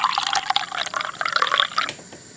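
Wine poured for miniature cooking, a trickling, splashing stream of liquid running for about two seconds before it stops.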